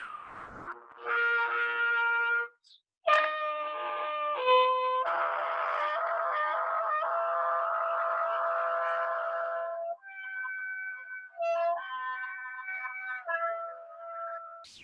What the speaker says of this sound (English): when you do it through the trumpet, it sounds like this